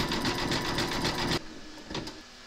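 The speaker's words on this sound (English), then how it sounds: "Pop your hoop into your machine and stitch round number 8" An embroidery machine stitches a satin stitch border on an in-the-hoop scarecrow applique, a rapid, steady mechanical chatter up close that abruptly stops partway through, followed by a couple of faint clicks.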